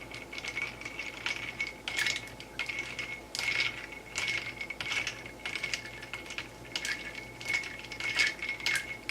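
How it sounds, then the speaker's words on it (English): A gin and tonic with St-Germain is stirred with a chopstick in a glass, making quiet, close, rhythmic clinks and taps that repeat steadily throughout, with no talking. "And then I'm going to stir it."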